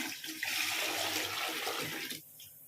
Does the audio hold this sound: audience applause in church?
no